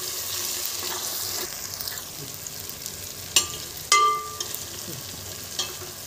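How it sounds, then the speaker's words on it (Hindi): Onion, ginger, garlic and tomato masala for a mixed-vegetable mutton keema sizzles and fries in a pan, a steady crackling hiss broken by a few sharp clanks and scrapes of stirring, with no talking. "देखिए अब ये मसाला अदरक लहसुन का प्याज का भूनते आ गया है।"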